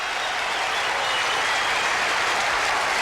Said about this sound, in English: This crowd on its feet.